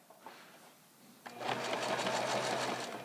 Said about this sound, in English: Then a little reversal stitch to lock it, and on we go.